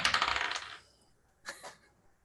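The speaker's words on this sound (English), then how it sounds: "All right, I'm rolling real dice this time." Real dice clatter across a table during a Tomb of Annihilation tabletop role-playing session: a quick burst of rattling, then two small taps as they settle, close and quiet, with no talking.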